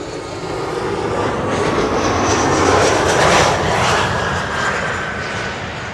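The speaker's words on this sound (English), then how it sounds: "This is KLM flight 1070, arriving from Southampton, Embraer 175." A KLM Embraer 175 arriving at Schiphol on the Kaagbaan runway roars past loud and close, the jet engine noise swelling to a peak midway with a high whine layered on top, then easing slightly.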